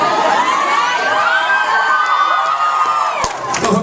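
A convention panel audience screams and cheers loudly and without a break, with shrill high voices whooping together in a dense, sustained roar. A brief clap-like burst comes near the end.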